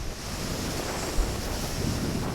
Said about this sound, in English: Waves crashing all around me.